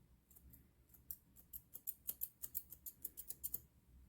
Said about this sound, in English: And cut repeatedly.